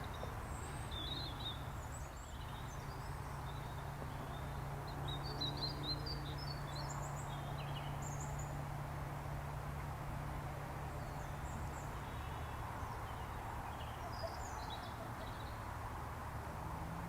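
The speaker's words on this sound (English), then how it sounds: "Can hear ducks and stuff and birds washing in the background" Birds chirp in scattered, faint bursts beside the river at Stalham, over a steady low hum of outdoor background.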